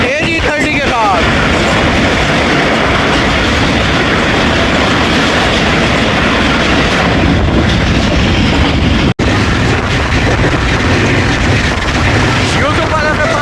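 The Allama Iqbal Express passes close by on the rails, alongside a Karachi Express running between Multan and Lahore, with a loud, continuous rumble and rhythmic clickety-clack of wheels.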